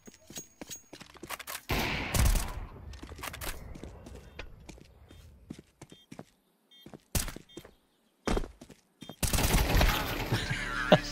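Counter-Strike 2 gunfire: several sharp bursts of shots, some in rapid runs and others as single cracks, separated by quiet gaps and light footsteps, with a longer sustained burst near the end.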